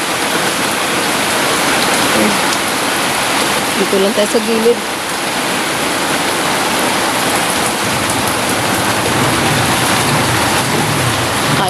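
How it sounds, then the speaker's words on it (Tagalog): Steady heavy rain pours down during flooding in a dense, unbroken hiss, with a brief spoken phrase partway through. "lumakas naman ang ulan"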